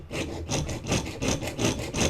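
Steady strokes of a fine saw cut a leaf-shaped pendant for a necklace, roughly six even rasping pulses in a regular rhythm, near and distinct, with no talking.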